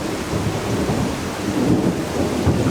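Loud, continuous rumbling thunder rolling through a steady downpour of rain, dense and low with no pauses.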